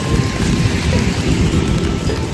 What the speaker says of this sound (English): I'm in the middle of the rain.